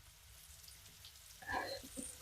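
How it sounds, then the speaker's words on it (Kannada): Paneer and vegetables fry in a pan, a faint low sizzle that swells into a brief louder crackle as the pieces are stirred, with no talking. "ಈ ಥರ ಎಲ್ಲನೂ ಇದೇ ಥರನ ಒಂದು 2 ಮಿನಿಟ್ಸು ಫ್ರೈ ಮಾಡ್ಕೊಳ್ಳೋಣ."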